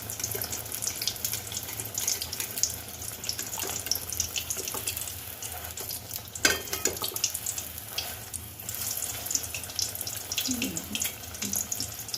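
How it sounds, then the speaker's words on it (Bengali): Chicken continental rolls deep frying in a pan of hot oil give a steady, close, hissing and bubbling sizzle that runs unbroken throughout, with a few faint knocks. "এইভাবে আমি ভেজে নেব"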